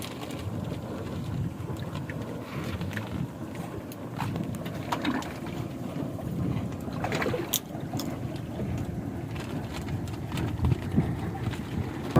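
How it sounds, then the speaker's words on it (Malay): A boat engine hums steadily across the water at Port Dickson with wind noise, a continuous moderate rumble that swells slightly as it passes, with no talking. "Laju bot tu Helmi lah."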